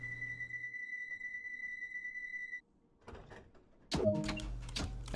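Train doors on a 1972 Tubestock London Underground train on the Bakerloo Line in Train Sim World 2 slide shut and lock with a clunk and rattle after a steady warning tone, followed by a low running hum.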